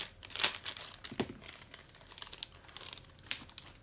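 A Dungeons & Dragons Icons of the Realm miniature figure box is cut and torn open, with close, quiet crinkling, tearing and crackling of packaging in irregular bursts.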